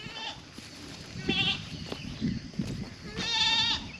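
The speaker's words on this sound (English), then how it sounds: "These other goats on the other side of the fence are hollering at you." Goats bleat repeatedly at close range, several wavering cries rising over a quieter outdoor background.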